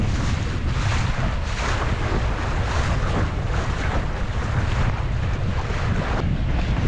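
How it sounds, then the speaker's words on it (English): Strong, gusty wind buffets the microphone on a sailboat heading upwind in rough, blustery Force 6 conditions, with a steady loud roar and rushing water throughout, rising in repeated surges. "Wow, it's very blustery today."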